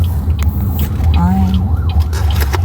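Ambulance siren wailing from outside a car in a Philippine neighborhood, a brief rising and falling tone heard faintly over steady road rumble and cabin noise.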